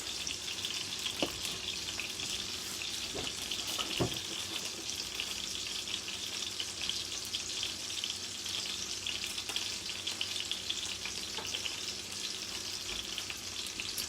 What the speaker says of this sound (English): strain it, let it sit for a minute in the colander so most of the water can drip off of it